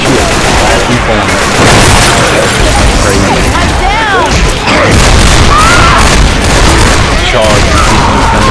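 A video game shootout fills the scene with dense, loud bursts of automatic gunfire and booming explosions that run continuously throughout, while voices shout over the chaos.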